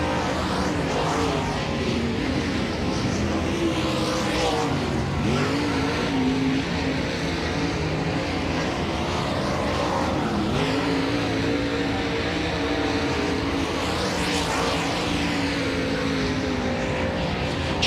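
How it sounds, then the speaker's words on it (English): Dirt track race cars roar around Volusia Speedway in a loud, continuous engine drone that swells and fades as they pass, with no voices. "These 4 cars are ready to go."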